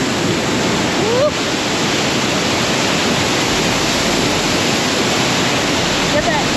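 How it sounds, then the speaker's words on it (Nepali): Kanchenjunga Falls roars as a loud, steady broadband rush of falling water, close and continuous throughout, with no clear voices over it. "lovely falls guys"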